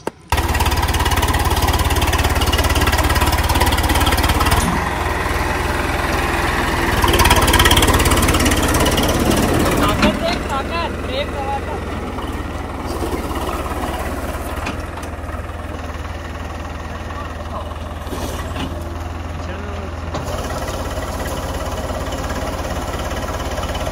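A tractor's diesel engine runs loud and close, rumbling steadily and then settling into a lower, even idle with a faint knocking vibration. No one speaks over it.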